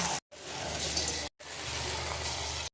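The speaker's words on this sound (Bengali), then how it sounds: "চিকেন পাকোড়াগুলো এক এক করে ভেজে নেব" Chicken pakoras frying in hot oil, a steady dense sizzle and crackle that cuts out briefly twice before resuming at the same close, even level.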